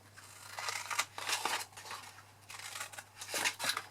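Scissors snip through card while cutting a notecard gift set, a series of crisp close-up cuts in uneven groups, with quiet pauses between the snips.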